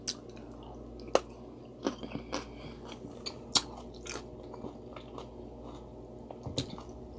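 Someone bites and chews cucumber pieces coated in hot Diablo sauce. There are close, wet crunches, several sharp bites spaced a second or so apart, then softer chewing between them.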